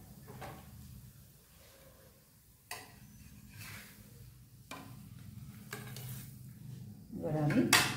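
A cabbage paratha fries in a pan while being pressed down, a quiet steady sizzle broken by several sharp clinks and scrapes of a utensil against the pan.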